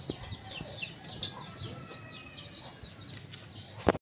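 Chickens and roosters let out of their coop on a home farm cluck and chirp steadily at a low, somewhat distant level, with a brief louder squawk near the end.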